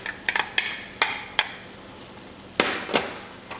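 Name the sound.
onion and garlic added to cooked meat in a pot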